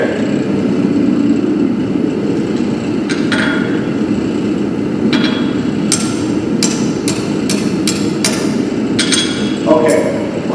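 A metal rivet is driven home with repeated sharp hammer blows, sparse at first and then quicker and more insistent, ringing over a steady background roar of a forge.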